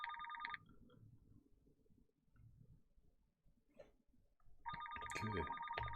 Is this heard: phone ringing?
yes